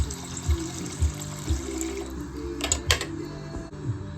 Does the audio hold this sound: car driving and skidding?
no